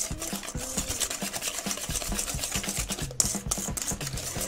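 Eggs and sugar are whisked in a bowl with fast, rhythmic scraping and tapping strokes that run continuously and close by, with one sharper knock partway through.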